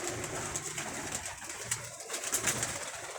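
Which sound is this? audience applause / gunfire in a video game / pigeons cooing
pigeons cooing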